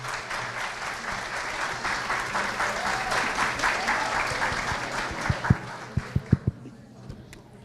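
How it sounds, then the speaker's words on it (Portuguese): Seminar audience at a 2018 state COFI event in São José do Rio Preto applauds in a steady, full roomful of clapping that thins near the end into a few scattered, separate claps. "Por favor, Pamela, uma salva de palmas"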